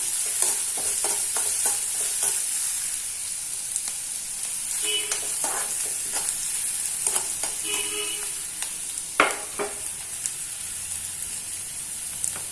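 Vegetables for a mushroom and gooseberry omelette sautéing lightly in a pan, giving a steady close sizzle with scattered scraping stirs of a spatula against the pan, no talking.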